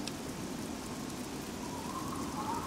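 Rain pours in Fallout 3, a continuous moderate hiss of drops on surfaces with a faint tonal hum rising near the end, no talking.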